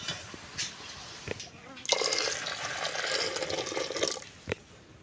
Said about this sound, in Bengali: এই জলটা আমি এখন ডালের মধ্যে দিয়ে দেবো